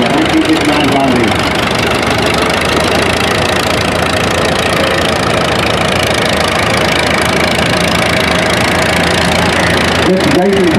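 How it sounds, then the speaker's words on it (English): A 1959 John Deere 630 tractor pulls a John Deere 810 plow at a plow day event. Its engine drones loud and steady throughout, with voices over the top. "A 1959 John Deere model 630 with a John Deere 810 314 plow behind it."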